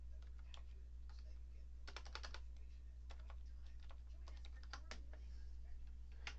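Keystrokes on a computer keyboard tap out in irregular bursts, fairly faint over a steady low hum, with no talking.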